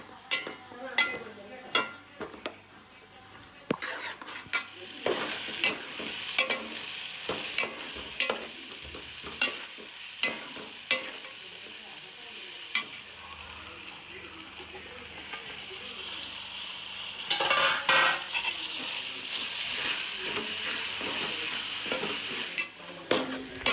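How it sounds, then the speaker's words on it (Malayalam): Garlic, ginger and shallots sauté in hot oil for a curry, a steady sizzle running under repeated scraping and stirring strokes of a spatula in the pan, close and fairly loud, no talking. "വെളുത്തുള്ളി ഇഞ്ചി കൊച്ചുള്ളിയൊക്കെ ഇട്ട് വഴറ്റി ബാക്കി കറി വെക്കാനായിട്ടുള്ള പരിപാടി തുടങ്ങി."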